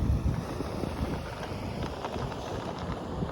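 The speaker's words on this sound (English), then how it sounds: "There's a mini waterfall there." Continuous rushing, churning water from a small cascade on the Grand Canal in Phoenix, Arizona, with gusty wind buffeting the microphone throughout.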